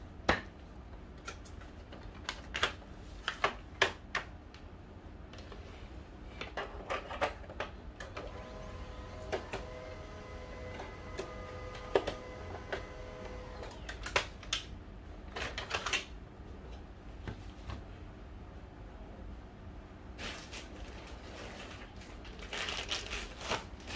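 A used office printer running, a busy stream of mechanical clicks, ticks and feed clatter with a brief whirring tone in the middle, fairly close and without voices.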